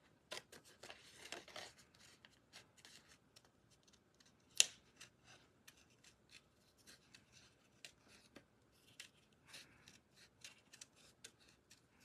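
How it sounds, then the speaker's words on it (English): Scissors snip steadily as paper is fussy cut by hand for a Paper Pumpkin card project, a run of quiet, close, irregular snips and paper rustles with one sharper cut partway through, no talking. "I want to kind of sort of fussy cut this out"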